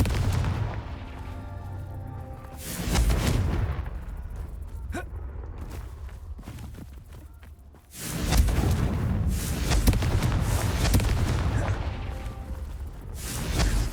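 Confringo spell blasts from the video game Hogwarts Legacy, heavy booming explosions with whooshing bursts, one around three seconds in and a longer roaring blast from eight seconds on, between quieter stretches.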